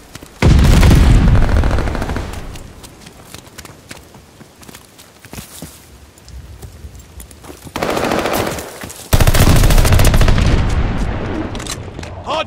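Bursts of loud, close machine-gun fire from the video game Call of Duty Vanguard come in heavy volleys, separated by a quieter stretch of scattered shots and footsteps before the firing surges again.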